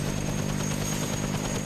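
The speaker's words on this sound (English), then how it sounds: "So many of these helicopters are out there fighting fires" Firefighting helicopters fly over the Blue Mountains bushfires, their rotors making a loud, steady rhythmic thudding with engine whine throughout, and no voices.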